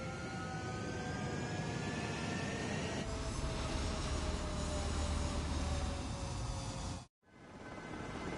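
A military jet roars through its takeoff run in Ace Combat 7, a loud sustained engine whine and rumble with rising tones that builds and then cuts off abruptly.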